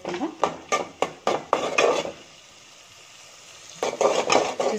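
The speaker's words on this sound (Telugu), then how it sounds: "చూస్తున్నారా ఉల్లిపాయలు బాగా వేగిపోతున్నాయి కదా." Chopped onions frying in a pan for hot chicken soup crackle under a run of quick spoon scrapes and knocks against the pan, then a quiet pause before more stirring.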